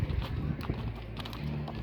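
Horse hooves clip-clop in a steady rhythm during riding training with a spirited, high-energy mare, close and moderately loud over a low rumble.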